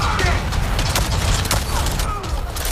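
Rapid gunfire bursts and booms from combat in the video game Avatar: Frontiers of Pandora, a dense fusillade of loud shots layered over continuous game sound and effects.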